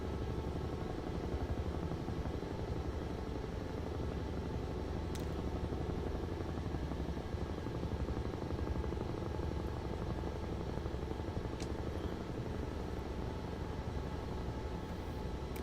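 A Huey helicopter in Microsoft Flight Simulator 2024, its rotor and turbine giving a steady, even, rumbling chop that holds constant and fairly quiet throughout with no talking.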